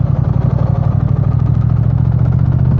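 A Triumph Speed Twin motorcycle engine runs steadily close by with a loud, even low throb and a fine rhythmic pulse, with no talking.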